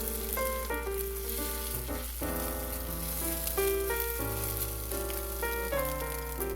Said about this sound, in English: Stir and try to break up a little bit.